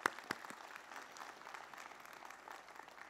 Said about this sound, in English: Let's give our keynote speaker another round of applause.